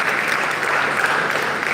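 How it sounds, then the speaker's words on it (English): An audience in a hall applauds debaters after a debate, with a steady, full wash of clapping that stays close and even throughout. "A round of applause to the debaters"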